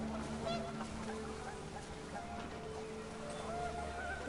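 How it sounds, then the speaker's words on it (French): Panicked geese honk in the video game What Remains of Edith Finch, a faint, busy cluster of overlapping calls over steady wind and rumbling background noise. "The wind picked up, and panicked geese appeared"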